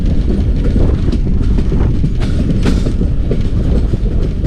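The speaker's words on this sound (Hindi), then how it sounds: "डाउन ट्रेन है वो एंटर हो रही है न्यू ब्रिज के अंदर ओवर इंडस रिवर।" A down train crosses the new bridge over the Indus River at Sukkur, beside the old red Lansdowne Bridge, with a loud, steady rumble of wheels and rolling cars and light clickety-clack, close and continuous throughout.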